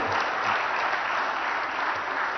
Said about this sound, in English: one loud round of applause for all of our winners of the day